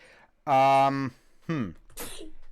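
A single sharp sneeze bursts out, followed by a short vocal sound and a breathy exhale, close and loud.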